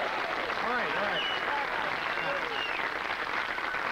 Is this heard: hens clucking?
no